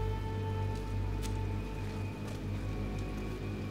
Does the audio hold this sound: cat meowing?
no